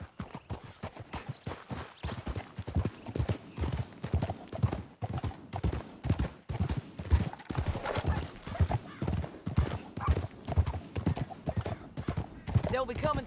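A horse gallops in Red Dead Redemption 2 across canyon country: steady, driving clip-clop hoofbeats run unbroken for about thirteen seconds, loud and close, with game sounds layered behind.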